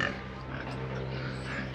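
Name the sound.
pig grunting on a Thai farm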